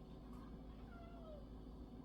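A very faint cat meow, a short drawn-out cry, sits under a steady low background hum.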